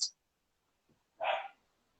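A single short dog bark rings out at moderate distance after a quiet pause, preceded by a brief high chirp.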